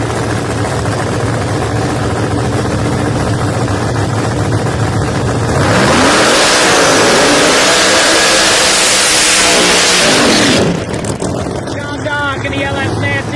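Drag racing cars at a PDRA Pro Nitrous and Pro Boost event, a constant engine rumble under an announcer's voice, then a deafening blast of revving for about five seconds that cuts off sharply.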